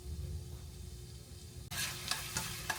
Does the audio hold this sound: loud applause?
no